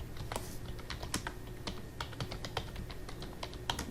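Fingers type on a computer keyboard nearby in a quick, uneven patter of light key clicks for several seconds, with no talking.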